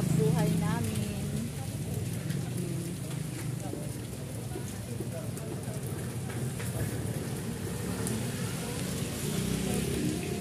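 Steady rain falls through the whole stretch on a wet, low-pressure day where street vending carries on, a continuous hiss and patter with faint voices and bustle underneath.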